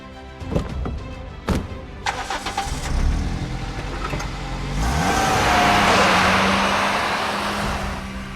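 A car engine cranks and starts in the video game Lab Rat as the car is stolen, with a few sharp knocks first, then a rising roar that settles into a steady, fairly loud idle.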